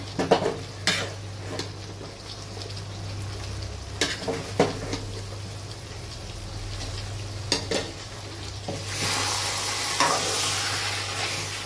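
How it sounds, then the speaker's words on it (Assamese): A steady sizzle of jackfruit frying in a pan under a low hum, with occasional scrapes and taps of a spatula stirring it. "কঁঠালটো আৰু অকণমান সময় ভাজি ল'ম।"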